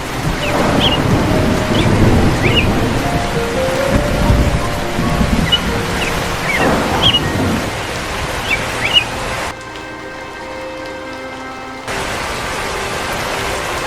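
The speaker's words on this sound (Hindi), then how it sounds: "अरे ये तो बारिश भी शुरू हो गई, अब क्या होगा?" Cartoon soundscape of steady rain with rolling thunder rumbles, loud and continuous, broken by a brief hush before the downpour resumes.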